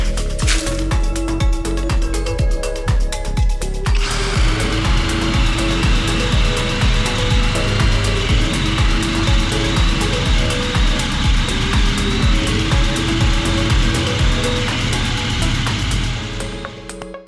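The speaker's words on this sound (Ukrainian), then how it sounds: "Горіх, сверло форснера валить без проблем." A cordless Einhell Power X-Change drill, set to second speed, bores walnut with a Forstner bit. Some lighter handling opens the clip, then a loud, steady motor whine with grinding cutting noise runs on without a break until it stops at the end.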